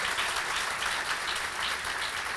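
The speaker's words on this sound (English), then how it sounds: "Give Diana Brown a big round of applause" An audience at a library opening in Middletown breaks into applause, a dense, even wash of clapping filling the whole stretch, moderately loud with no talk over it.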